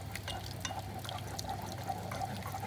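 Milk poured into a pan for a cauliflower cheese sauce on medium heat, a steady close liquid stream with faint trickling over a low hum, no talking.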